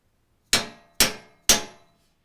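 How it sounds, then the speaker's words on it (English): A canvas or rawhide mallet taps a bent valve stem on a brass instrument three times at an even half-second pace. Each strike is a sharp, close metallic clang with a short ringing decay. "using a hammer like a canvas or rawhide mallet will get those moved"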